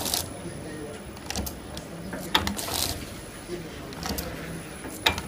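A powder detergent packaging machine, a model 905 with three-side sealing, fills and seals bags at its slowest speed, giving repeated mechanical clacks and thumps over a steady whirring hum, with talk in the background.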